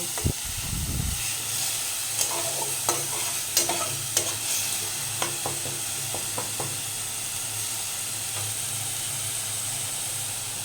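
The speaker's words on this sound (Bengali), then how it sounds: "পেঁয়াজটা ভালো করে ফ্রাই করে নেব।" Onion paste fried in oil with panch phoron for a raw mango rohu fish curry: a constant bright sizzle fills the pan while a spatula scrapes and taps in quick bursts, easing into steady hissing toward the end.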